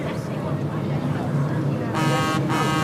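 A car horn sounds a couple of sustained toots near the end, loud and close over road traffic noise, with people talking around it.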